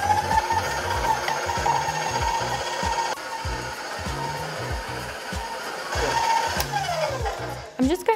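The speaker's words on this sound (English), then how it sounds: "We're gonna mix it for about 1 to 2 minutes on medium speed." An electric stand mixer creams sugar and butter on medium speed, giving a steady mechanical whir with a regular rhythmic knocking, loud and close, for the whole stretch and briefly changing near the end.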